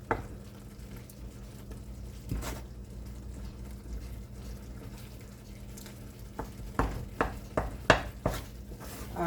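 Edible gum (gundar) mixture being stirred in a pan for gundar pak, with a low steady cooking hum and a run of sharp spoon-against-pan scrapes and clicks near the close, no talk.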